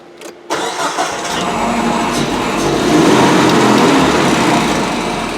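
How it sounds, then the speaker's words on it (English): A 2003 Nissan Frontier 2.4L pickup engine cranks over and catches after a brief silence, then settles into a steady, loud idle around 1,000 RPM that rises slightly in pitch. "Okay, engine's running."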